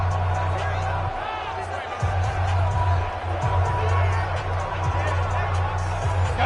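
A stadium crowd cheers and roars at a video game football game, a steady wash of noise under continuous play-by-play commentary.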